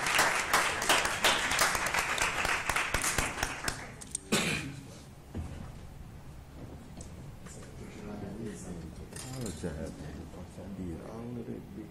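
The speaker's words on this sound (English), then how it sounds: "Let's give our scholars another round of applause and our amazing instructor." Audience applause at a public school board of trustees meeting, honoring scholars and their instructor: dense clapping for about four seconds, then it stops abruptly, leaving room noise and a voice talking.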